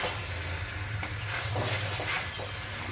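Chicken sautéing with spices in a covered pan before any water goes in, a steady close sizzle with soft stirring scrapes running through it.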